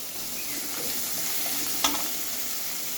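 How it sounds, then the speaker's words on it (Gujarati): Finely chopped onion dropped into crackling cumin and asafoetida tempering for a Kathiyawadi curd curry, with a steady close sizzle and a single sharp clink partway through. "હવે આપણે આમાં એક ઝીણી સમારેલી ડુંગળી નાખવાની છે"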